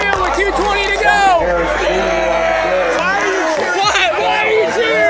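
Crowd at a rainy high school football game with Danville driving late in the fourth quarter, a loud mix of chatter, whoops and shouting cheers filling the stands throughout, with voices close by.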